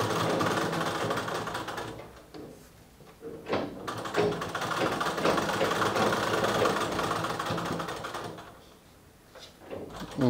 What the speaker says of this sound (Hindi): अभी ये सिर्फ पलटा करके ये अंदर से सिलाई लगा रहे हैं।